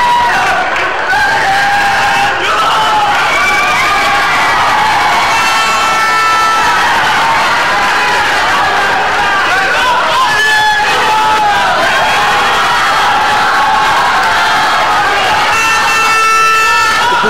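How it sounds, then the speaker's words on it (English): Bhutan football supporters cheer and shout throughout a Sri Lanka versus Bhutan World Cup qualifier, a loud, sustained wall of crowd noise with rising whoops and children's shouts. "The Bhutan crowd here in full voice"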